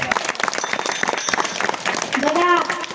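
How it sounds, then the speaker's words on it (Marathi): Applause breaks out at a devotional Harinam Saptah gathering, rising into dense, many-handed clapping from a nearby crowd. A chanting or singing voice carries over the top of it. "जरा या रत्नांसाठी जरा जोरदार टाळ्या होऊ द्या"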